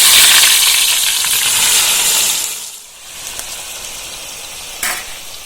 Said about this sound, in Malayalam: ഇത് ഉള്ളി ഒന്ന് ഫ്രൈ ചെയ്തിരുന്നു.